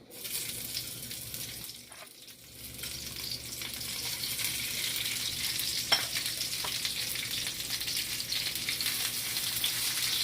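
Sliced bell peppers fry in olive oil over medium heat, producing a steady, moderately loud sizzle that builds and holds, with a few faint utensil scrapes from stirring.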